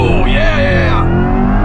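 A Corvette E-Ray hybrid launches hard from a standstill, a loud, rising whine and engine roar climbing in pitch for over a second before easing off.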